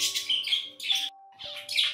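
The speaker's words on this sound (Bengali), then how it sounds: "এদের এই কিচিরমিচির ডাক এত মিষ্টি লাগে শুনতে। তার উপরে আবার সেই বারান্দায় আসে চড়াই পাখির দল" House sparrows chirping on a veranda, a flock giving bright, quick tweets in several close bursts, with a steady faint electronic hum beneath.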